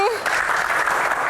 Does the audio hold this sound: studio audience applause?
yes